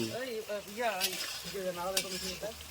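Potatoes fry in a pan while being stirred, a soft sizzle with light scraping beneath a prominent voice singing or humming close by throughout.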